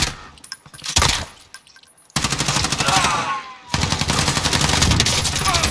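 Sustained automatic gunfire from a Call of Duty Warzone battle, loud dense bursts of rapid shots with brief gaps, close and continuous with metallic clinks mixed in.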